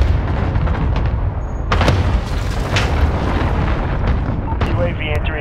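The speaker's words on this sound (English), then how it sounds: "Allied cruise missile away." Deep rumbling blasts and booms from a cruise missile strike in Call of Duty: Modern Warfare multiplayer, loud and continuous, with sharper bangs breaking through and radio voices over the top.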